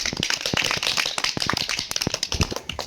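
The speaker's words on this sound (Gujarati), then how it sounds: "ખૂબ સરસ, તાળી પાડો." Children clapping at a science demonstration, a quick scattered burst of many hands applauding close by for a few seconds, without speech.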